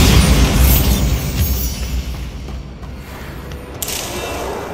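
The Bombarda blasting spell in Hogwarts Legacy goes off as a loud, close booming explosion that decays into a rumbling tail, followed by a smaller crack near the end.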